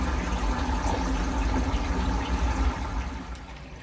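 A Samsung Ecobubble 8 kg digital inverter washing machine takes in water for its rinse cycle, giving a steady low rushing hum with a faint watery hiss, close by and fairly even throughout.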